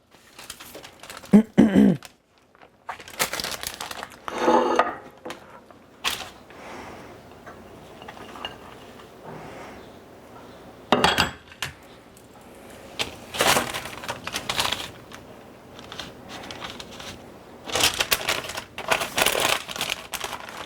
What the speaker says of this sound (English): now I've got a piece of wax paper that I'm going to wrap it in